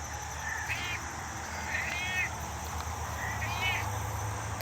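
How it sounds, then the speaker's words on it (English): A cat outdoors on rural land gives three short meows at a distance, spaced apart over a steady bed of outdoor ambience with insects or frogs. "And I hear the cat over here."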